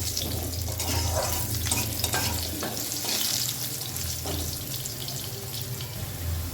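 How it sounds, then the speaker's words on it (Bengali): Diced potatoes frying in a pan over a medium gas flame, a constant close hissing sizzle with faint stirring sounds, no voices. "দিয়ে দেব ডুমো করে কেটে রাখা আলু আলুগুলোকে একটু লাল লাল করে ভেজে নেব"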